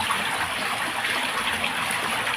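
Cold underground spring water flowing freely with no machine pumping it, a steady close gush and splash that holds even throughout without any talk.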